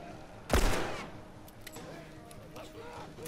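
A single loud gunshot in The Last of Us blasts out early, followed by softer scattered impacts and movement sounds while a person talks quietly underneath.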